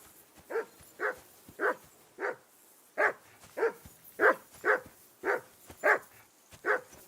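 A dog in Kingdom Come Deliverance II barks about a dozen times in a steady rhythm, each bark short and clear at moderate distance, with little else around.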